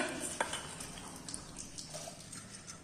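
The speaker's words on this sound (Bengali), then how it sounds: "ফ্রাইড রাইসের জন্য চাল দেওয়া হচ্ছে হাঁড়িতে" Rice tipped into a pot with hot ghee for fried rice, a soft, close patter and light sizzle with faint utensil clinks, quiet throughout.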